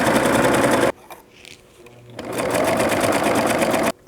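A home sewing machine stitches fabric in two loud, fast, steady bursts separated by a quiet pause while the work is repositioned.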